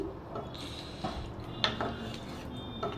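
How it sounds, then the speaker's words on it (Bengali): Potato egg curry stirred in a pot after water is added: soft, intermittent ladle clinks and scrapes against metal over a low, steady bubbling hiss, fairly quiet and close. "জল দিয়ে একেবারে নাড়াচাড়া করছি"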